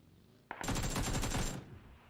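Sustained automatic AK rifle fire in a battle royale video game match, a loud, rapid burst of about one second that then fades into a brief echoing tail.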